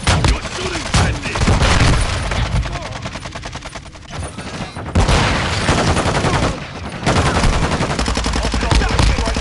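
Dense automatic gunfire from the Call of Duty: Modern Warfare 2 video game, loud and close, with sustained bursts and brief pauses, overlapping explosions and game voice callouts.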